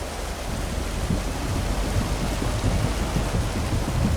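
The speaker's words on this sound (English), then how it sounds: "You can hear the planks on the tyres of the vehicle as it goes over them." In the video game Lake, vehicle tyres roll over the planks of a rickety wooden bridge above a fast-flowing river, a dense continuous roaring rumble, loud and steady with no speech.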